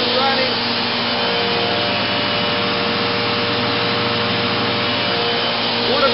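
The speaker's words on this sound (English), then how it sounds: "Yes, the air compressor is running." An air compressor running in an air sparge soil vapor extraction system drones with a loud, constant mechanical hum and hiss, unbroken throughout.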